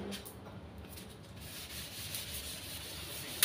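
Steady rubbing and scrubbing of rusting stainless steel with a cleaner, a continuous close abrasive scraping that holds for several seconds with no talk.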